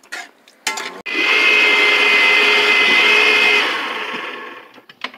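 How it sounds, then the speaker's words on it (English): A kitchen blender purees seasoning of onion, scallion, pimento and green peppers, a loud sustained whirring motor lasting about three seconds before winding down, with brief knocks before and after and no talking. "We told you already what he have in the blender: onion, scallion, pimento green, you know, green peppers"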